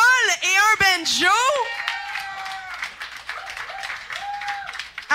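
An audience applauds and whoops for a banjo act on a Québécois talk-show set. Loud shouts and cheers open the clip, then steady clapping and crowd noise continue throughout.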